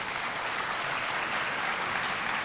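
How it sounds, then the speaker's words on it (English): An audience at a university oath-swearing and awards ceremony applauds steadily, a dense, even wash of clapping that lasts throughout. "I would like to give him a round of applause now,"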